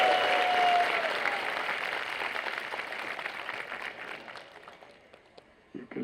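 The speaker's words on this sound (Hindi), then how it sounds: "आप जब भी चाहे ताली बजा सकते हैं." Audience clapping fills a Govardhan puja festival class, a dense steady round of applause that slowly thins and fades over several seconds with no talking over it.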